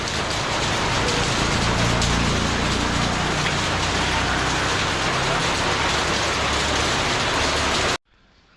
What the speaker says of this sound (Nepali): पानी पर्यो यार